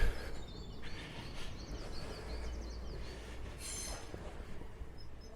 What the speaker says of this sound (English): as you can hear hopefully from all the birds, the morning chorus and the train.